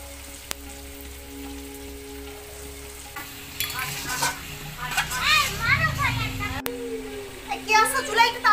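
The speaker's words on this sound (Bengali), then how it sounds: "আমি এখন অল্প করে একটু পানি দিয়ে কষাবো" Duck meat curry with plenty of onions sizzles and hisses in a pan as a little water is added and stirred, the frying steady and close while adults and children talk nearby.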